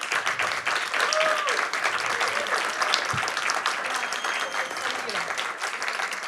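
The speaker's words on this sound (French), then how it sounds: "je vous demande encore une fois de plus de les applaudir" A round-table audience claps steadily throughout, dense sustained applause filling the room at an even level, with faint voices underneath.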